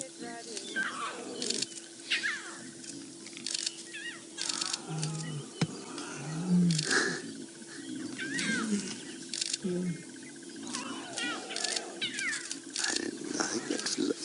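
Adult lioness calling to her cubs at a buffalo kill in the African bush, heard as repeated low moaning calls mixed with higher cub mewing and cat-like cries, fairly close, with bird calls and quiet talk in the background.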